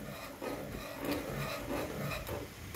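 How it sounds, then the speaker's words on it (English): Cane sugar rubbed by hand into a Christmas ham, giving a continuous close, gritty rasping and rubbing with slight swells in pressure and no speech. "So I'm going to be rubbing this in now."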